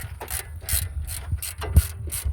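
A ratchet works a nut off the front strut of a 2009-14 Nissan Maxima, making a rapid series of close, rhythmic clicking strokes with dull mechanical knocks.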